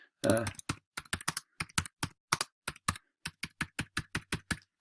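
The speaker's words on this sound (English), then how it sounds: "I can then add text" Rapid taps on a computer keyboard while text is entered into a Google Slides presentation, clicking along steadily at close range and fairly quiet, with a short spoken phrase at the very start.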